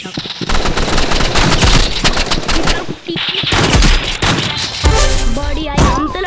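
Rapid automatic gunfire and shots ring out on a video game shooting range, including an RPG, with loud bursts of rattling fire, a brief pause, then more shots and game effects.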